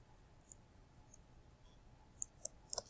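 Sharp, faint mouse clicks on a computer while working in a Google Drive document, scattered irregularly with a quick cluster near the end, in a quiet room with no talk.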